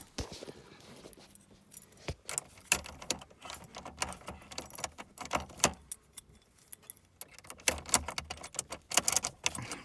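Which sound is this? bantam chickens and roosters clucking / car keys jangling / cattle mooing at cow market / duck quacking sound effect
car keys jangling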